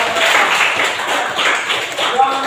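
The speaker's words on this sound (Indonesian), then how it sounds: "Kita memberikan aplaus" A school class claps together in an Indonesian classroom: a steady, brief round of many hands applauding at close range, fairly loud and even throughout, with a voice briefly present.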